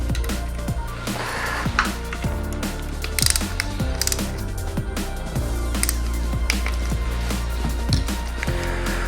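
A ratchet wrench clicks steadily and rapidly up close as the spring, washer and nut on the shift drum of a Yamaha YFZ450R engine are tightened, with busy metallic mechanical clatter throughout.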